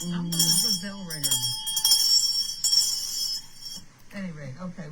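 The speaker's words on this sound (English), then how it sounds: "You ring the bell and he'll come." A hand bell rings at home to call a pet, with bright, sustained metallic tones that linger and fade while people talk over and around them.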